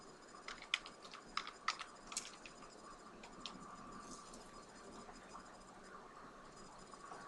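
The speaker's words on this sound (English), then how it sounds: "Type in your user ID followed by your password." A user ID and password typed on a computer keyboard, light irregular key clicks in short clusters, quiet and close, with no talking.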